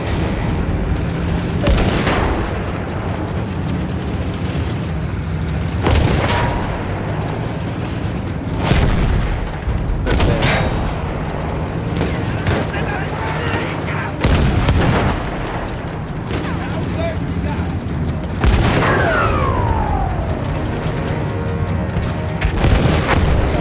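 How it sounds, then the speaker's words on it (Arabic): Repeated heavy booms of cannon fire from a Mark V tank in Battlefield 1, several blasts spaced a few seconds apart over a dense rumbling World War I battle background. "فجر ذلك المدفع"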